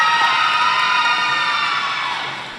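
A crowd at a roller derby bout cheers and whoops together in a loud, sustained roar that gradually fades toward the end.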